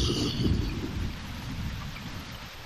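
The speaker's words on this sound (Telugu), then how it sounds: "రూపా వాన్ ఎప్పుడు ఆగదు, చీకటి పడుతుంది" Heavy rain pours down in a steady, dense wash with a deep low rumble underneath, fairly loud at first and easing slightly.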